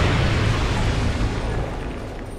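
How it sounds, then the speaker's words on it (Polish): A deep, booming explosion in the video game Dark Souls 2: loud, dense rumbling that holds steady for about two seconds and then fades slightly toward the end, with no voices. "Tak po prostu, żeby pokazać eksplozję jeszcze raz."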